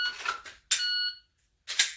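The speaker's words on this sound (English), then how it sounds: "I'm just a little late on the buzzer." Sharp electronic shot timer buzzer beeps during dry-fire pistol practice with a Glock 34, three short tones separated by brief pauses, loud and close with nothing else around.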